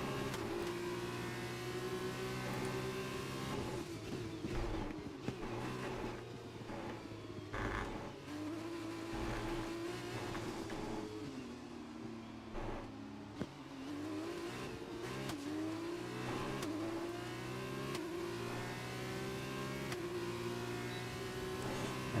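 Formula 1 race cars in the F1 2021 video game, high engine whines rising and falling with revs as several cars run close together, a continuous roar with brief tire squeals.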